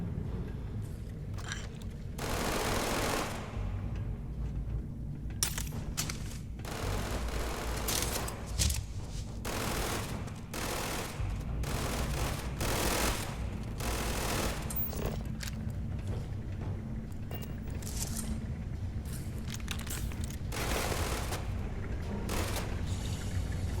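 Gunfire in the Starfield space game, with repeated sharp bursts of shots scattered through a steady rumble of combat noise, some close and loud, others quicker volleys.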